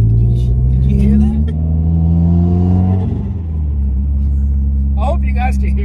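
Turbocharged Subaru WRX with a Grimspeed bypass valve, its engine rumbling loudly from inside the cabin with a rising rev and fluttering turbo bursts, and voices talking over it.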